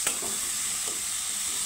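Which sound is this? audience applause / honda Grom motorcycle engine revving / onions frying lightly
onions frying lightly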